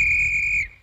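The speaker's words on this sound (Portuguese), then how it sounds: "se o lobo aparecer, é só apitar assim" Whistle blown in a 1951 Woody Woodpecker cartoon, a single steady shrill tone held for over half a second before cutting off, loud and alone over a low background rumble.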